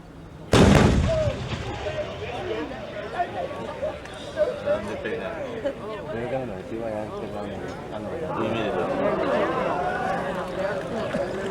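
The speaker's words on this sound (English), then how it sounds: "You will see the howitzer tube move slightly to lay in the target just prior to firing." Howitzer fires a single loud blast at an artillery demonstration at Fort Sill, with the boom rolling and echoing across the range as a narrator speaks over it.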